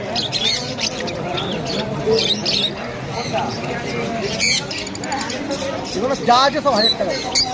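Small pet birds, including lutino birds, squawk and chirp in sharp, repeated bursts, some close and shrill, while people talk over the busy background of an exotic bird market in Serampore, India.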